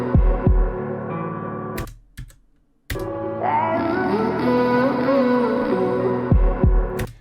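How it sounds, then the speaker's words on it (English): Kick drum in a song, with low thumps at the start and end of the excerpt framing a sung vocal line and backing music, loud and close. "So that's the first kick drum"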